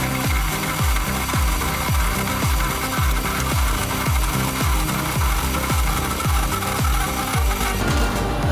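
A veneer peeling machine strips thin layers of wood from a rotating log, giving a steady rhythmic series of loud scraping, thumping strokes about every half second over continuous mechanical noise.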